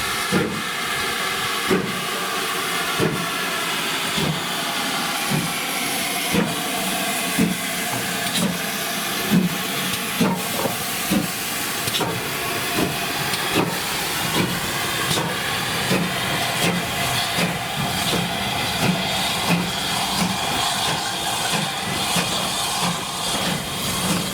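Steam locomotive 2999 Lady of Legend pulls away at a spring gala on a heritage railway, with a steady roar of steam and hiss and regular exhaust beats repeating throughout, fairly near and continuous.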